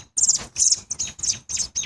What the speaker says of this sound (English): Dog caught a bird.